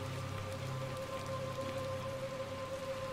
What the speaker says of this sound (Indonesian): Tuh masih hujan di luar